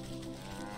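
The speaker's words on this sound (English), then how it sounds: "There's a cow." A cow moos in the video game Wytchwood, one short steady low call held throughout at moderate loudness.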